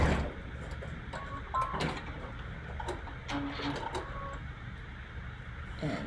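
A sewing machine stitches pieced quilt fabric with uneven bursts of rapid mechanical ticking and whirring, close and moderately loud, pausing and restarting as the work is guided through.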